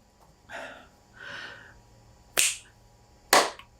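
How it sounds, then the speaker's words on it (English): Hands clap twice, two sharp, close, separate cracks about a second apart, following some faint breathy sounds in an otherwise quiet room. "I will then do that thing where I clap my hands"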